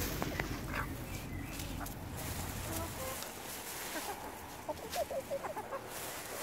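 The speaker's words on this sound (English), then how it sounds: "Happy chickens." Several chickens clucking softly nearby, a short run of rhythmic clucks near the end over quiet background rustling.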